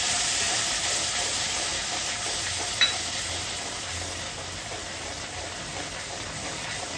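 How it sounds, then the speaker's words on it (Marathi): Tomato puree sizzles and hisses steadily in a hot pan for pav bhaji, a continuous close frying sound with one brief clink near the middle. "आता ही टोमॅटोची प्युरी टाकायची. आता याला चांगलं परतून घ्या."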